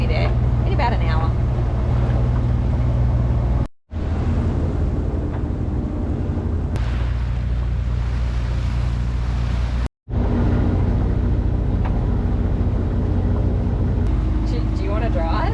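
A sailboat motors under its Yanmar 3YM30 diesel engine in calm, windless conditions, producing a steady low droning rumble that continues with two brief dropouts.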